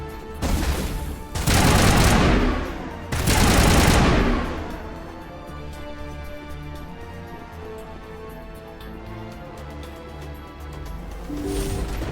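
Heavy gunfire in Mass Effect on Virmire, two long loud bursts of rapid shots in the first four seconds, then a lower rumbling battle ambience with another swell near the end.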